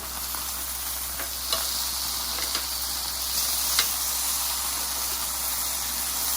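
Honey teriyaki short rib sticks sizzle in a hot pan, a loud, steady hiss with a few faint clicks of turning as they are flipped.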